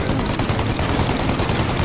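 Dense, loud gunfire in Mafia: Definitive Edition, a continuous rattling fusillade of rapid shots filling the whole moment with no pause and no talking.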